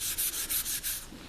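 Wire wool rubs wax into a softwood tray in about five steady back-and-forth strokes, a close, soft, hissing scrub with a regular rhythm.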